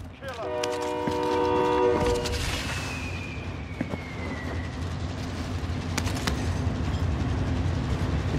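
A train in a video game rolls and sounds its horn, a loud sustained multi-tone blast at the start followed by a long falling whistle and a steady rumbling drone, with players talking over it.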